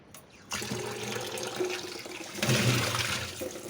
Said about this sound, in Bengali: ভালো করে ধুয়ে নিচ্ছি আমি, ওকে 4-5 জলে ধুয়ে নিয়েছি।